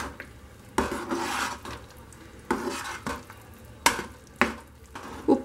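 Coriander masala powder is stirred into thick puliyogare gojju in a pan, with soft sizzling under a series of distinct scraping stirs and spoon clinks spaced about a second apart.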